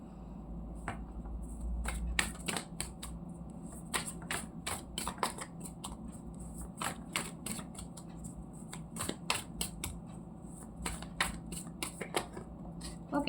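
Tarot cards shuffled by hand in quick, irregular riffles and slaps, soft and close, with a faint hum underneath.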